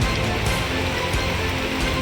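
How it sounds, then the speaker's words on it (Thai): Steady, dense rain pours down during a heavy storm in Laos, a continuous even hiss of drops on surfaces with no breaks, close and fairly loud throughout. "ฝนมาอีกแล้วพี่น้องมาอีกแล้ว"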